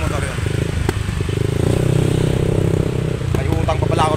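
Motorcycle engine drone heard from a passenger's seat on a moving bike, a steady close mid-pitched hum with a few rattles and clatters throughout.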